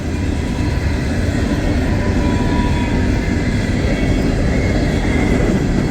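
Empty Norfolk Southern coal train of black hoppers rolling down the Mon Line toward Shire Oaks, a steady, loud, continuous rumble with rail clatter throughout and no talking.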